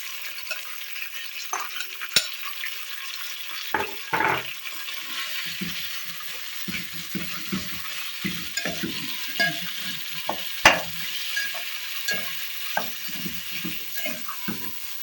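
Minced meat sizzles and crackles in a pan with garlic, ginger and green chillies, with repeated scraping and stirring clicks over a steady hiss.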